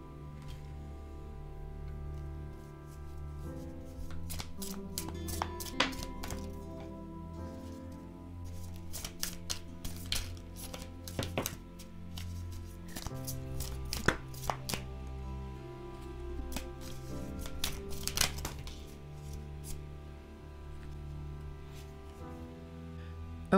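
Tarot cards are shuffled by hand in quiet, irregular bursts of soft slaps and riffles, while a low music bed plays underneath throughout.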